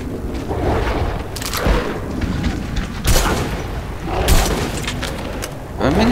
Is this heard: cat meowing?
no